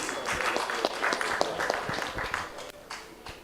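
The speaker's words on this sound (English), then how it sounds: "Please give a big round of applause for the corporate team." Applause rises from the audience at a corporate executive talent competition grand final, a sustained patter of many clapping hands that gradually thins toward the end.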